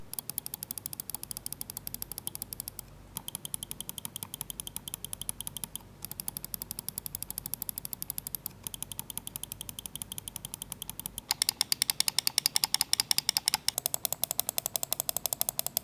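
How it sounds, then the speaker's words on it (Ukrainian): Lamzu Maya X 8K computer mouse clicking steadily, a fast run of quiet, short, crisp clicks close up with no talking, growing a little louder and denser near the end. "До речі, клік дуже тихий."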